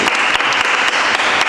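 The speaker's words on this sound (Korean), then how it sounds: "박수." A small group in a dance practice studio in Japan gives a burst of applause: brisk, continuous clapping with a few sharper accents, close and fairly loud.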